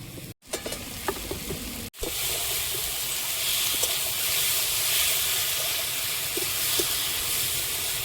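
Fried fish head goes into a hot pan for a fish curry: after brief clatters and a cut, a loud, continuous sizzle and bubbling fry steadily to the end.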